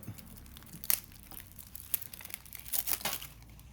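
Süper Gol trading card packs being torn open and their wrappers crinkled, with sharp tearing bursts and crumpling foil sounds at close range and no talk.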